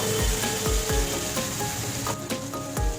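Masala paste being fried in a pan for a Bengali vegetable and fish dish, a steady dense sizzle with repeated scraping stirs of a spatula, close and fairly loud, no talking.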